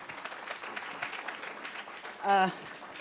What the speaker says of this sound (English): Please, another sure. round of applause